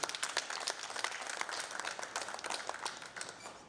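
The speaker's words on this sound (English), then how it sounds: "Please continue the hand clap." Audience hand clapping at the launch of an SBN strategy event, a quiet, steady patter of many hands that thins toward the end, heard from some distance.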